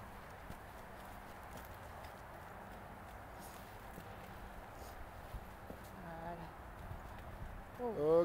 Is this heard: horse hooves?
yes